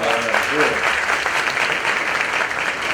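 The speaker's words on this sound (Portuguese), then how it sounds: "Salva de palmas para vocês aí." Audience at a business forum panel breaking into applause, a dense, loud, steady round of clapping heard on its own.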